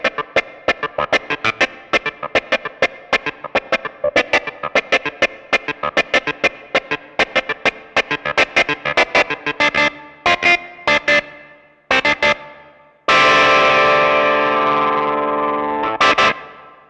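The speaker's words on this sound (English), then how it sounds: "Let's hear the clavinet going through the auto wah into a Fender Twin, halfway on the drive with a bit of stage reverb as well." A Nord clavinet runs through an auto-wah into a Fender Twin amp with the drive at half and a touch of stage reverb, playing loud, funky, percussive staccato notes, then ending in a sustained swelling chord with an echoing tail.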